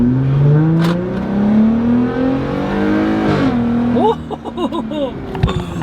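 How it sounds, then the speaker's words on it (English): A Jeep Gladiator engine revs up through a loud custom exhaust, climbing in pitch, then a series of short throttle blips rumble up close. "I just can't get over that exhaust. That exhaust is just ridiculous."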